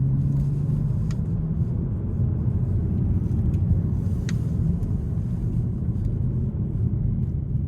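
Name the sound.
2026 Hyundai Sonata SEL Sport accelerating onto interstate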